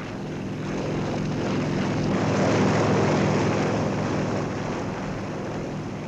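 Jet aircraft roar on the aircraft carrier Foch as Étendard jets are prepared for catapult launch, a broad steady engine rush swelling and holding loud for several seconds.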